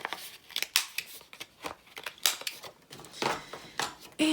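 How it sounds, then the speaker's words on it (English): A paper trimmer slices through cardstock in a series of close, crisp swipes and scrapes, with handling rustles between the irregular cuts, and no talking. "Come over here to my trusty dusty trimmer."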